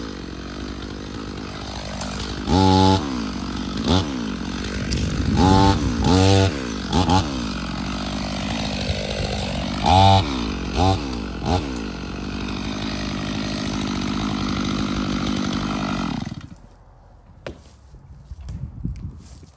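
Chainsaw cutting into a large walnut log, its engine running steadily at high revs with several sharp revving surges before it cuts off near the end, loud and close.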